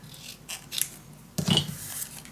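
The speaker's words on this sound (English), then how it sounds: "So I'm gonna cut these in half." Scissors cutting scrapbook paper in half for a mini album, a few quiet snips with one louder, closer cut near the end, alone in a quiet room.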